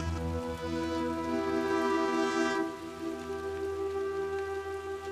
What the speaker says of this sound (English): It's warm and it's raining. It's raining hard.